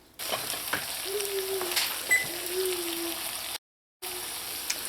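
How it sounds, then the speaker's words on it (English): Rum and raisins cook off on low heat in a pan with a steady, gentle sizzle and bubbling, close and moderate, briefly cut out near the end. "We just want this to cook off in here for about 2 minutes."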